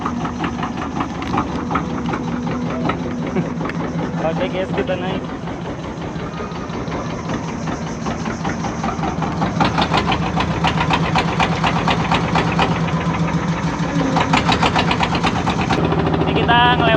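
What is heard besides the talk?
boat engine running as they board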